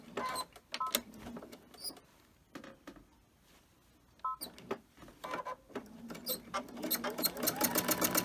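A domestic sewing machine doing free motion quilting on a fabric bag, bursts of rapid needle chatter that stop and restart, ending in a fast steady run, close by, with someone talking between bursts.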